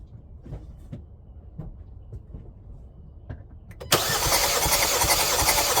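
A 2018 Hyundai Santa Fe Sport engine cranks over with the starter for a compression test, a few faint rhythmic cranking pulses, then the engine catches into a loud, steady roar for the last couple of seconds.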